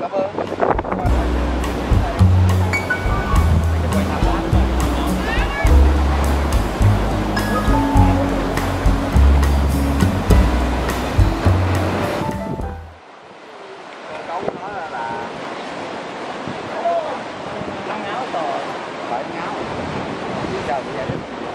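Sea waves wash steadily onto Dinh Cau beach on Phu Quoc island, a continuous surf roar mixed with wind noise on the microphone. A heavier low rumble fills the first half, then the sound thins to quieter surf.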